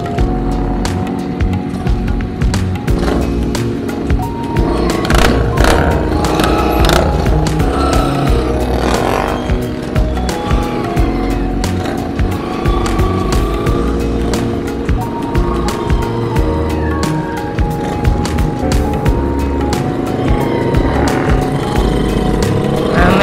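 Custom classic motorcycles rev and rumble loudly and continuously on a Sunday morning group ride in Palembang, with repeated throttle blips, a busy crowd of engines and occasional shouts.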